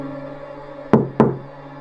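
Two sharp knocks on the door of a rented lodging, loud and close, spaced about a quarter second apart over a low steady hum.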